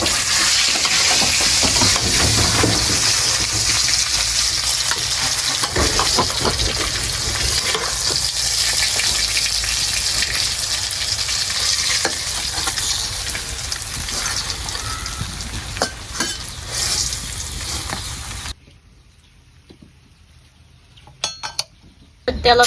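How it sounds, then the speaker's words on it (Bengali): Pangas fish frying in oil on a village clay stove crackles and sizzles loudly and densely, with scattered utensil clinks, before the sound drops away to near silence with a few last bursts near the end. "এইদিকে মোর পাঙ্গাস মাছটা ভাজা হয়ে গেল"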